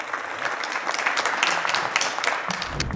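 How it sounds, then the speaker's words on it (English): An audience at a live startup pitch event applauds to welcome the next founder, sustained crowd clapping of moderate loudness, steady throughout. "Shall we welcome the next founder stage? The round of applause."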